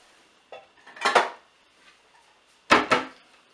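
A small cooking pot is handled, giving a few close metallic clanks and clatters: one light knock, a cluster of rattling hits, then two sharp loud clangs after a pause.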